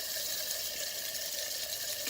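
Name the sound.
used well pump running, pumping water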